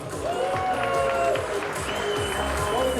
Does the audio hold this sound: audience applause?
yes